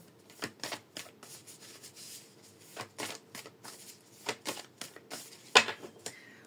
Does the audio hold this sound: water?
no